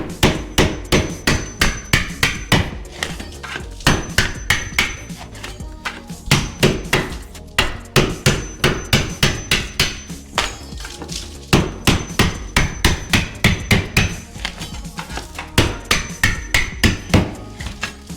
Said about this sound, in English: So we're gonna try this first method. It's the hammer and the blade.